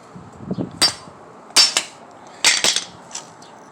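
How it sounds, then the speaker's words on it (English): A quadrajet carburetor bolt is hammered against a roll pin in a 54-year-old Pontiac distributor. Sharp metallic hammer strikes land close by in small clusters of two or three, with brief pauses between. "Perfect for driving out your roll pin."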